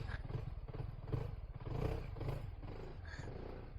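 A scooter engine idles steadily up close, a low throbbing rumble with a rough, uneven chug that rises and falls slightly.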